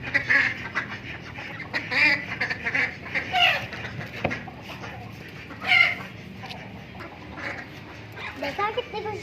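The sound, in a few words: chickens clucking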